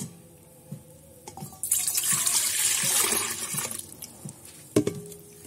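Two cups of warm milk pour for brioche dough, a soft splashing stream rising over a couple of seconds amid faint kitchen clinks, close and fairly quiet.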